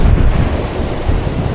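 Sea waves and a strong water current at a dangerous fishing spot make a loud, constant roar of surf and rushing water, close up, with wind buffeting the microphone and no voices.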